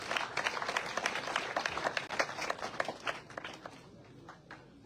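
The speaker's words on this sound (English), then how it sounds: "Please let's clap for him." An audience at a high school thanksgiving service applauds a speaker, steady scattered clapping from a crowd, moderately distant and fading slightly toward the end.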